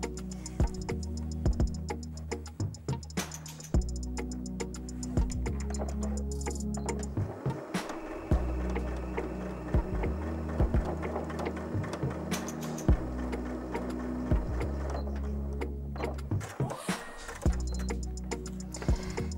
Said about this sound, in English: Now you could hear then when it was going over the seam that it was having to work slightly harder